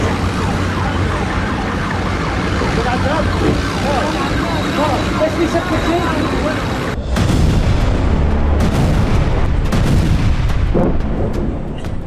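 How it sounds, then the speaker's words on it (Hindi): Israeli bombs strike Khan Younis in southern Gaza with several heavy, booming blasts in the latter half, over a constant rumbling din in which a siren-like wail and voices can also be heard. "इस बार खान यूनिस में आईडीएफ ने लगातार कई बम बरसाए।"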